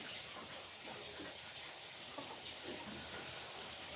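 Urad dal vadai sizzle in hot oil in a village kitchen, a steady, close frying hiss with soft crackles that holds for the whole stretch with no talk.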